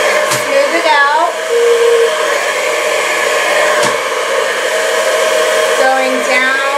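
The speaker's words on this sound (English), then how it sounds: "You want to point the nozzle of the blow dryer down the hair." A blow dryer drying hair runs close and loud with a steady airy whine, its pitch wavering slightly as the nozzle moves along the hair.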